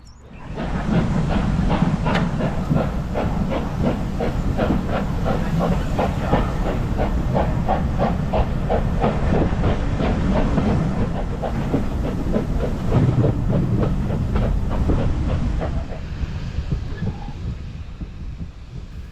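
Steam locomotives working hard at a Keighley and Worth Valley Railway steam gala, a steady rapid chuffing exhaust over a broad hiss of steam, loud and continuous throughout, easing slightly near the end.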